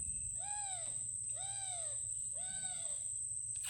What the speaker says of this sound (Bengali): একটা ঘুঘু পাখি ডাকছে